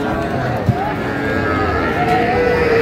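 Young Sahiwal bull calves on a cattle farm give low, drawn-out moos, a couple of calls rising over steady background chatter nearby.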